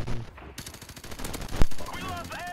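Suppressed gunfire in Call of Duty 4: Modern Warfare Remastered: a run of muffled shots rattles through busy game noise, with one loud close crack standing out near the middle.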